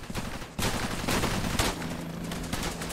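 Gunfire in the Cepheus Protocol game crackles in rapid irregular bursts, with several sharp loud shots over a continuous rattling background.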